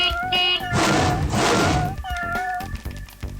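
A cartoon cat in a video game gives loud, drawn-out meows and a strangled yowl as a vehicle rams and runs it over, set against busy game sound effects and music.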